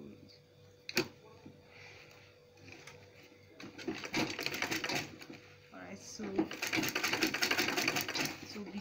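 A sewing machine stitches a zip onto a purse in bursts of rapid mechanical chatter, growing louder and steadier toward the end, with a sharp knock early on and someone talking in the background.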